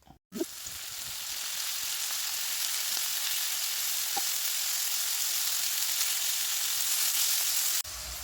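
Chopped onion, garlic and carrot sizzle loudly in a hot pan, a steady crackling hiss that starts abruptly and continues, with a few soft pops and occasional stirring.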